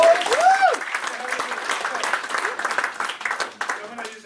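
Steady audience applause fills the room, dense and sustained throughout, with a voice calling out briefly near the start.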